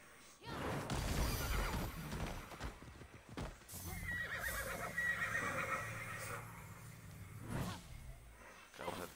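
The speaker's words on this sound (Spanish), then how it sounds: "He sacrificado a mi caballo." A horse in the Immortals Fenyx Rising video game gallops with loud clip-clop hoofbeats, then gives a clear neighing whinny, with a brief whoosh near the start and later a fainter whinny toward the end.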